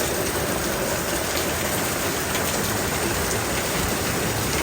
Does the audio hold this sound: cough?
no